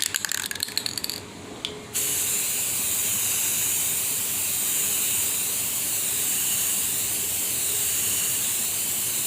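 A spray can hisses steadily and close by as paint goes onto a truck backseat bed panel, in one continuous spray after a couple of rattling shakes and short bursts at the start.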